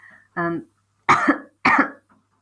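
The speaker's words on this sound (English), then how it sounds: "Still got this cough that I never seem to get rid of" Three harsh coughs in quick succession, loud and close, with short pauses between them.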